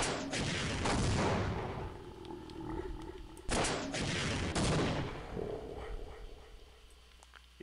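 Heavy gunfire in the video game Half-Life, with dense bursts of rapid automatic shots and a few loud single blasts that ring out and decay, filling the whole stretch at close range.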